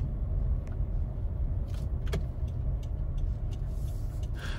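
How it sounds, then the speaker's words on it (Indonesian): Low, steady road noise rumbles through the cabin of a 2021 Honda Civic Turbo Hatchback RS with a 1.5-litre turbo engine while driving, with a few faint clicks and taps and no talk. "Road noise juga masih terasa khas Honda, tidak sebaik peredaman Mazda 3."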